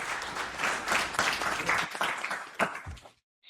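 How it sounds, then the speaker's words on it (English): Audience applause for a speaker at an AI leadership panel event in New York, a dense wash of clapping lasting about three seconds before cutting off abruptly into silence. "Please give a warm applause, Minerva"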